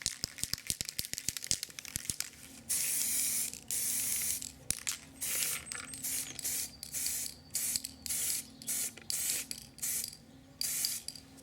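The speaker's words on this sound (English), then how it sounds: "Once you've sprayed the model and it's dried" Undercoat being sprayed onto an Imperial Knight Titan model in a garden: a rattle of the shaken can, then repeated hissing bursts of aerosol spray, each a second or so long, separated by short pauses.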